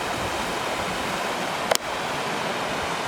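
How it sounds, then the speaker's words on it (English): Steady broadband rush of water from waterfalls in the woods, an even continuous roar with one brief sharp click partway through and no talking. "they've got all these different waterfalls that are just so beautiful up here, and it's just so relaxing."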